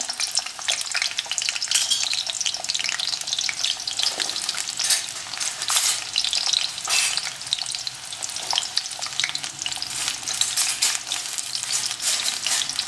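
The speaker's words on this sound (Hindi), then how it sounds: "तेल गर्म हो चुका है अब उसके अंदर हम प्याज डाल देंगे" Onions frying in hot oil for chilli chicken, a steady bright crackling sizzle that runs continuously at close range, with occasional stirring bursts.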